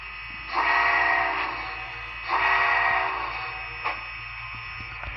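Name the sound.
Rio Grande Challenger model locomotive running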